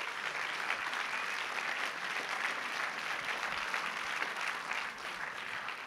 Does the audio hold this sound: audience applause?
yes